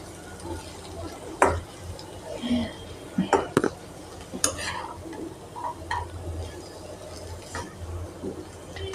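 Rice stirred and fried in a pan for a vegetarian biryani, with scraping spoon strokes and clinks over a soft sizzle, loud close knocks scattered through the stirring.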